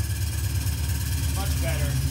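A Fox body Mustang engine runs with a steady, loud low rumble through the whole short stretch, with a faint higher tone rising briefly near the end.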